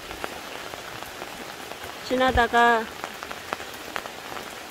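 Autumn rain falls steadily on a garden with a prickly ash tree laden with berries, a soft even patter throughout, and a voice speaks briefly midway.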